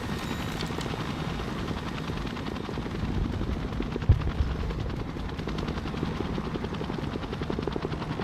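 Osprey tiltrotor aircraft in the video game Broken Arrow produce a continuous rapid rotor chop, with brief bursts of gunfire mixed in and a low thud partway through.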